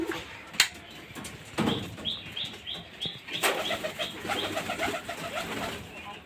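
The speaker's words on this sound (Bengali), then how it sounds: "দেখেন এই সুন্দর, এত সুন্দর একটা কবুতর, মানে গ্রিবাস কবুতর" A Giribaz pigeon coos softly in a quick run of repeated notes, joined by a few sharp wing flaps and chirps nearby, against a quiet, hissy background with no talking.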